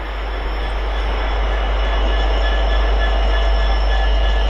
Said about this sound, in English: Full train time now with 802305, working the King's Cross to Beverley